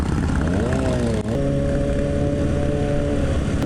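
A Kawasaki ZX-6R motorcycle on a group ride gives a loud, continuous engine drone with a steady pitch that rises slightly early on, heard close up under rushing wind.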